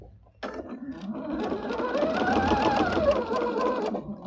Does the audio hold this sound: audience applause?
no